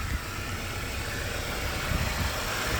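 A 2010 Renault Megane 1.6 petrol engine idles steadily at close range, a low continuous rumble with a faint vibrating hum and no voices.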